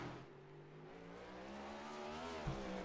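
A race car engine in a racing video game on a Chicago street course, a steady droning whine that climbs gradually in pitch as the throttle opens, heard alone at moderate level.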